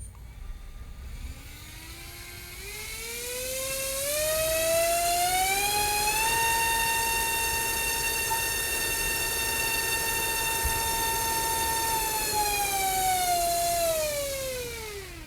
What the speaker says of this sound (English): So the 3-bladed prop will give us more thrust.